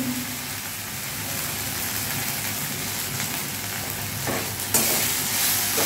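Pointed gourd (potol) being sautéed in a pan with darkened oil and ground coriander gives a steady, close, hissing sizzle that grows briefly louder near the end as it is stirred.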